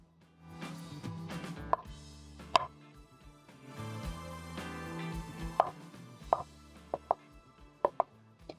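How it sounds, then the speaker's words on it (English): A knife roughly chopping pitted tomatoes on a board while preparing Kenyan chicken tumbukiza, with irregular sharp close thuds over a faint tonal background. "roughly cut up my tomato as well"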